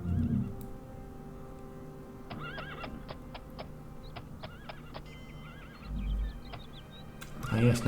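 A horse in the video game Daggerfall Unity whinnies several times with a rising, shaking call, amid soft hoof clip-clops and low rumbles at the start and end.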